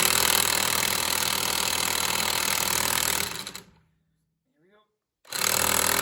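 A Mastercraft 1/2-inch electric impact wrench hammers loudly and steadily at a lug nut for about three seconds, then cuts out to near silence with a brief low voice before the rattling burst starts again.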